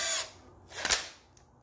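A bolt on an Audi 2.0T balance shaft timing chain is snugged down with a power tool, heard as a brief whirring burst followed by a second short buzz nearby.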